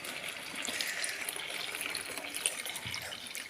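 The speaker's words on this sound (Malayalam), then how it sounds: "ഇതാണ്ട് ഗൈസ്, തേങ്ങാപ്പാൽ നമുക്ക് ഒഴിച്ചു കൊടുക്കാം." Thick coconut milk pours into a pot of sago payasam, a soft steady liquid gurgle and splash heard close and continuous throughout, with no talk over it.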